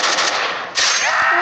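Burst of gunfire from a zombie battle tycoon video game, a loud continuous rattle of rapid shots with a short dip midway, heard alone without talk.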